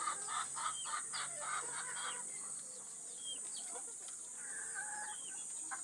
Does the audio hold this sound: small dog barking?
no